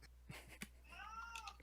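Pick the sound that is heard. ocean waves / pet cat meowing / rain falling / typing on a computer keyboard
pet cat meowing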